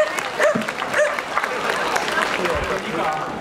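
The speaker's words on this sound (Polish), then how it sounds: "Brawa dla niej! Brawa!" Applause and cheering from a crowd at a dachshund march event honouring a dachshund puppy, with occasional yips and barks from dogs mixed in and voices talking over the clapping throughout.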